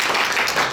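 Applause for Javier Oyarzún during a live podcast recording: a brief burst of close, dense clapping from a small audience, steady and fairly loud throughout.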